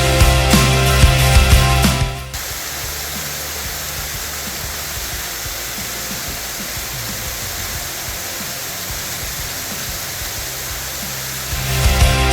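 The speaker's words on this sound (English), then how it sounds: "To Arathusa Falls, yay! That's what you guys see behind me." Arethusa Falls, a tall waterfall in New Hampshire, roars as a broad, steady rush of falling water. It sounds loud at first, then drops to a softer continuous hiss before swelling again near the end.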